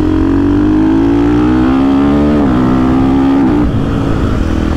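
A 2024 KTM 500 EXC-F motorcycle climbs uphill on a wet road, its engine loud and close with a steady high drone that dips briefly mid-way and then holds.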